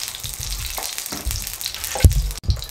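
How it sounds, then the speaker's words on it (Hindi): Desi ghee sizzles and crackles steadily in a hot pan while besan roti is being made, with a couple of sharper clinks near the end. The sound is close and fairly loud, and no one speaks. "ये ले जी, घी मेल्ट हो चुका है"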